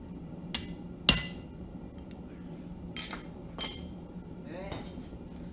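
A homemade chisel is tapped against metal leaf to mark veins, giving a few sharp, bright metallic clinks spaced apart, the strongest one early, over a quiet room background.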